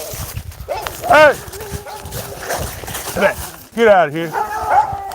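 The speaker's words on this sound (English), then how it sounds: "Got crazy dogs out here." Hound dogs such as a basset hound barking and baying in a salvage yard, a few loud howling barks in bursts over about five seconds, mixed with someone shouting nearby.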